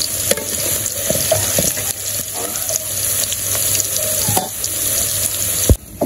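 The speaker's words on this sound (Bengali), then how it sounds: "আবার আলু দিচ্ছি, আলু ভাজা হয়ে নামিয়ে নেই মাছের আলু" Potatoes fry in hot oil in a village kitchen during Eid cooking. A steady crackling sizzle runs throughout, broken by stirring scrapes and clinks and a sharp knock near the end, with no voices.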